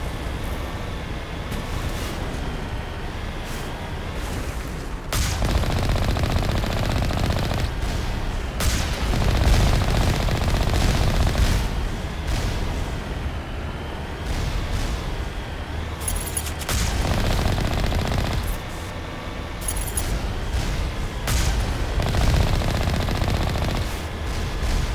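Turrets in the video game Mass Effect fire in long, dense bursts of rapid gunfire, loud and sustained across the whole stretch, with booming impacts and brief lulls between volleys.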